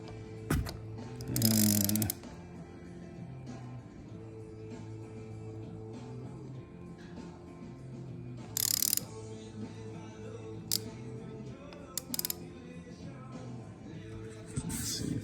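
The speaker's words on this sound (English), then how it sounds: "I've got my 14 millimeter socket on here, and I'm gonna spin this around until that T lines up" Ratchet with a 14 mm socket turning over a Honda CB100 motorcycle engine, quiet mechanical clicking and turning with a few louder bursts of rapid ratcheting, close by and without talking.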